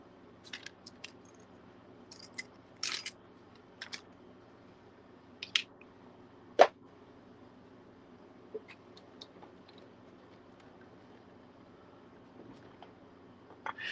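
Black cardstock being cut at a quiet craft table: sparse, faint snips and crisp clicks scattered irregularly over low background hiss, with no talking.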